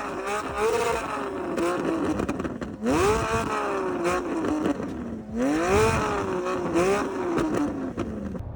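Modified car with a loud aftermarket exhaust, revving hard three times in a row, each rev climbing and then falling back, close and aggressive.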